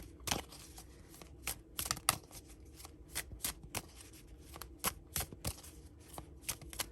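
Angel cards are shuffled by hand, one deck worked through in quick crisp riffles and soft slides that repeat at an uneven pace, close and clear with no speech over them.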